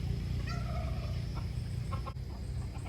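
Chickens on a homestead clucking and calling in short bursts, moderately near, over a steady low background hum.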